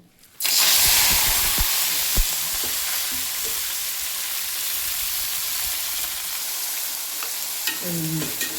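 Onions hit hot oil for a methi masala chicken curry and burst into a loud, steady sizzle that holds throughout, with occasional spoon clicks and scrapes near the pan and a brief clatter near the end.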